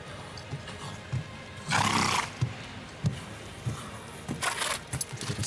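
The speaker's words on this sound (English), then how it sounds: "A bit of sneezing from the horse." A horse sneezes during a Grand Prix dressage test at Aachen, a short broadband snort burst standing out among quieter hoof thuds and faint arena ambience, followed by a few softer snorts.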